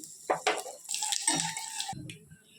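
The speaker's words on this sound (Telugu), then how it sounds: "ఇప్పుడు నూనె వేడెక్కినాక తాలింపు దినుసులు వేసుకోవాలండి" Tempering spices hit a spoonful of hot oil in a small pot on the stove and sizzle loudly for about a second after a few utensil clinks, then the hiss dies away.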